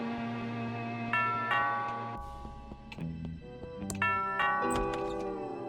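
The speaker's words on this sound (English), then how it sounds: "That sounds like the doorbell." A doorbell rings in the video game Thimbleweed Park, several sustained chiming tones sounding in sequence over a low steady musical background, with no talk.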